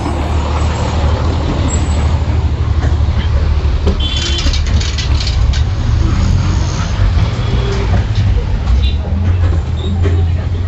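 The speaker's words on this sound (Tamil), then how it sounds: "இப்போது பஸ்ஸுக்கு உள்ளே போய் காட்டுறோம் பாருங்கள்." Inside a moving bus on Andaman, a loud constant engine rumble and road noise with rattles fills the whole stretch, with voices talking over it.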